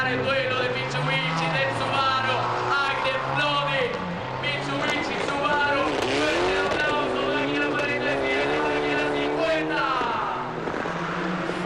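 Mitsubishi and Subaru rally cars race on sandbanks at Rally Argentina 2007, engines revving hard with shifting, whining pitch throughout, loud and close, under continuous commentary.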